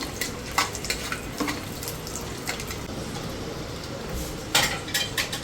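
Raw capsicum and other vegetables fry in hot oil with garlic in a pan for chicken noodles, giving a steady close sizzle with occasional scraping stirs and clinks of the utensil.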